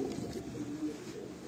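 Racing pigeons bred for high flying coo steadily on a rooftop loft, a soft continuous low murmur of several birds close by with no voices.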